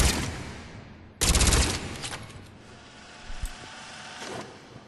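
Shuriken gun from Mass Effect 3 firing at a target range, a loud sustained burst of rapid automatic shots that cuts in abruptly, followed by a fading tail and a few scattered softer reports.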